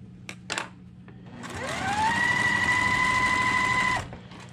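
A sewing machine runs steadily for about two seconds while stitching a quilt block, revving up to a smooth, even whir and then stopping, with faint handling clicks before it starts.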